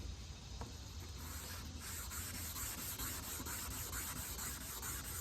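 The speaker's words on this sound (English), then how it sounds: "do this wet sanding." Wet sanding an oxidized headlight lens on a 2014 Chevrolet Silverado, a steady, noisy abrasive rubbing and whirring that runs continuously at close range with no talking.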